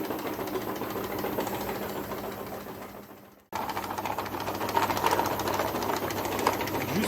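The pot conveyor of an ERM3 machine running with a steady mechanical whir and a rapid rhythmic clatter, briefly dropping away for a moment before resuming at a constant level, close and without voices.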